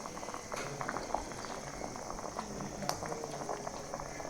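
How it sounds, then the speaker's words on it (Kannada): Dal bubbling at a steady boil in a pot with dhokli dough balls dropped in, a dense close-up patter of small pops and bursts continuing without pause, no voices. "ಈ ಥರ ಕುದಿಯುತ್ತಿರೋ ಬೇಳೆಯಲ್ಲಿ ಅದನ್ನು ಹಾಕಿ ಕುದಿಸ್ಕೊಳ್ಬೇಕು"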